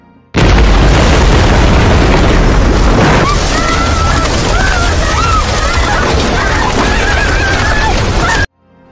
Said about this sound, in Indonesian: Kapten Sarah yang meledakkan kotak-kotak itu